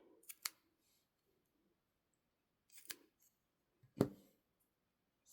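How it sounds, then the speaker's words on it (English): Scissors snip thread tails on a decorative paperclip made for a journal, giving three separate sharp cuts spaced a few seconds apart, close and crisp in an otherwise quiet room. "Let's trim these tails off a little bit longer."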